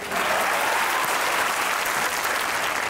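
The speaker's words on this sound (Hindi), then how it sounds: "नौजवान ताली बजा के बताएं" Studio audience at a Pakistani comedy game show breaking into steady, dense applause that fills the whole moment, loud and close, with no voices over it.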